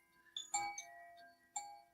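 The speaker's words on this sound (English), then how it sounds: "I could just go with these chimes." Metal wind chimes hung around a home ring in a few bright, clear strikes that decay and overlap, fairly soft and close, in a quiet setting.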